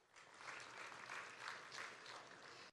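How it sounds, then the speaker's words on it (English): A conference audience at a developer session on GitHub Copilot applauds a speaker: even, continuous clapping from a crowd, fairly distant and soft, swelling slightly before cutting off, with no voices over it. "Give it up for her. A round of applause."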